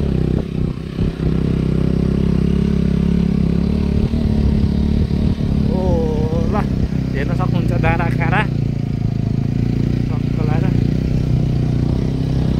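A motorcycle rattles and clatters along a rough, bumpy road, with a continuous loud engine drone throughout. Brief wavering tones and voices rise above the noise midway.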